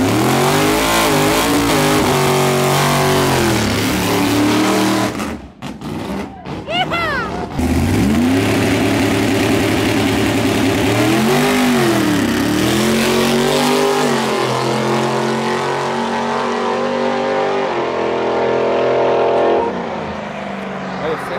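A Dodge V8 Pro Mod drag car roars loudly down the strip, engine revving and accelerating with a brief gap before the roar resumes and fades slightly, while people talk over the noise.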